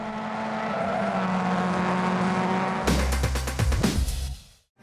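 Racing cars in an iPhone racing game roar with engine tone, then a burst of rapid crashes and skid-like impacts near the end before cutting to near silence.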